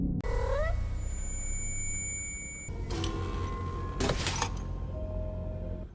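A black cat in the horror video game Baby in Yellow gives a brief rising meow, followed by electronic tones and clattering game sounds.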